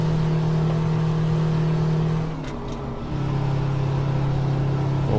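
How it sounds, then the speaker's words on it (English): A Kenworth W521 truck engine revving high in American Truck Simulator, a loud sustained engine drone that dips briefly midway, as during a gear shift, then climbs back up. "I know I'm destroying the engine by revving it this high."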